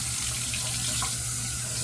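Steady close rush of water from a bathroom tap wetting a shaving brush, a continuous even splashing stream with no talk.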